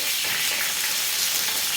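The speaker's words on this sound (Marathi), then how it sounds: "त्यानंतर छान आपला कढीपत्ता तडतडलेला आहे" Rain-washed curry leaves crackle and sizzle in hot oil for a tempering, a dense, even frying hiss heard close and alone throughout.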